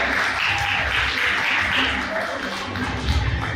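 A crowd applauding at a choir competition awards and closing session, dense continuous clapping that holds steady throughout, fairly loud and filling the room.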